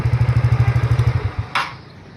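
A scooter engine fitted with an FI carburettor idles after tuning in an even, rapid low thump, then cuts out at about one and a half seconds, followed by a brief sharp clack and quiet.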